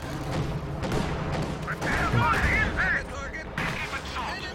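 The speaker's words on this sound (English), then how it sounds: "Oh, Katyusha firing, we're looking Oh yeah, it's firing on these 2 field guns." Katyusha rocket artillery fires in the video game Company of Heroes 2, with dense rumbling launches and distant battle explosions heard over a continuous din, while a voice talks over them.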